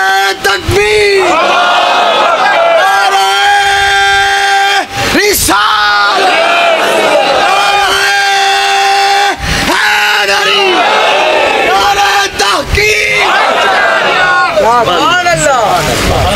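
A large crowd at a religious sermon gathering roars the Takbir slogan in unison, loud and repeated in several drawn-out chanted bursts with brief pauses between them.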